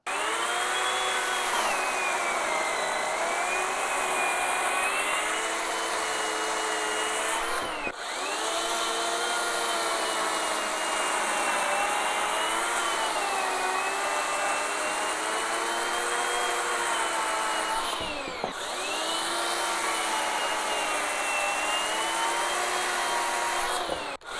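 A corded electric chainsaw runs at full power, giving a loud, steady whining motor drone with two brief dips in speed before it surges back, with no voices.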